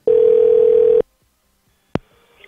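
A Jitterbug flip phone with voice dialing plays a steady electronic tone for about a second, then goes quiet before a short sharp click and faint noise.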